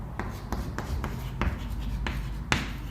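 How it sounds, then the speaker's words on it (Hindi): Handwriting during a teaching session, with a pen or marker tapping and scratching in short regular strokes, close and moderately loud, with no talk. "मैं ऐसे लिखते जाता हूं"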